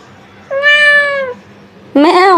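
A pet cat gives two clear, close meows, one drawn-out and a second rising call after a short pause, loud over a quiet background.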